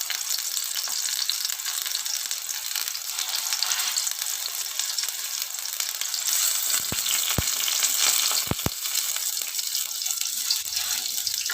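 Stuffed pointed gourds fry in hot oil, giving a loud, steady close sizzle that runs throughout, with a few brief knocks near the end and no voices.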